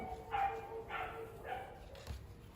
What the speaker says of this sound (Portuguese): Os cachorros começaram a participação especial.